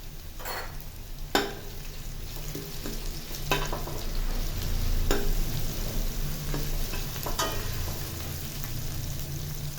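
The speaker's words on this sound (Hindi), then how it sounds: "ये डाला हमने कुटा हुआ लहसुन और मिर्च।" Crushed garlic and chilli sizzling steadily in a hot pan, a soft continuous frying hiss with occasional sharp clinks and scrapes of stirring, quiet and close with no talk.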